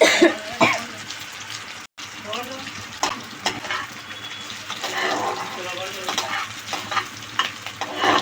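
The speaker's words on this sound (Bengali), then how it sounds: "পেঁয়াজটা আর একটু হবে ভাজা" Onions with chopped garlic sizzle steadily in a pan, with occasional stirring scrapes and a brief cough partway through.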